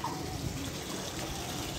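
Water runs steadily from a tap, a faint, even trickle and splash without break.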